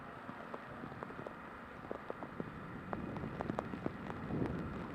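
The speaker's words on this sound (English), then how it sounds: "And the rain starting to come down." Rain beginning to fall outdoors during a juvenile cross country race in Tipperary, heard as soft steady patter with scattered sharper drops on surfaces, building slightly toward the end with no talk.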